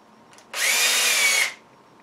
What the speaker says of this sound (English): the motor is just out of your toolbox. It's your drill.